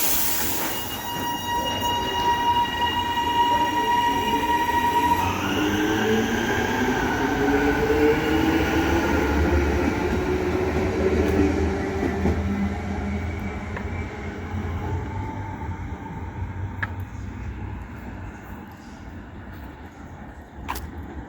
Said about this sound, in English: you just gotta love that HCMT sound